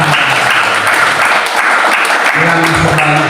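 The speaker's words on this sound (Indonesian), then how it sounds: "Berikan tepuk tangan" Loud, dense applause from a congregation at a worship gathering in a Jakarta apartment, sustained throughout while a voice speaks and tones briefly ring over the clapping.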